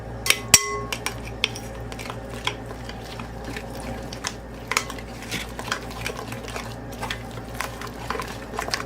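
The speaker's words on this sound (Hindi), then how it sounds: "इसको अच्छी तरह से हम मिक्स करेंगे।" Utensil clinks and scraping as a marinade is mixed with mustard oil in a bowl for BBQ chicken biryani, a steady run of close, sharp taps and stirring knocks over faint background hum.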